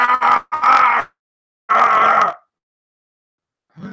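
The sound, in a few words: man imitating screaming in pain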